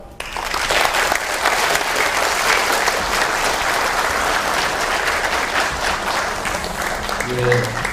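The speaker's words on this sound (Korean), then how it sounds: "큰 박수로 다시 한번 합니다" An audience applauds after a lecture, dense steady clapping from a hall full of people lasting several seconds, with a voice faintly audible underneath.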